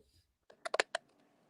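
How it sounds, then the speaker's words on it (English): A quick burst of four or five sharp clicks, like keys being typed, sounds faint and somewhat distant in an otherwise quiet room. "Hold on, what's that clicking?"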